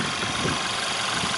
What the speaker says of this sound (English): The engine's running at the moment, you can barely hear it.